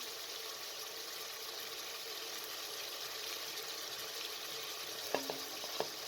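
Gosht sizzles in a pan on a medium flame with a steady, dense hiss, broken near the end by a few faint clinks of a spoon.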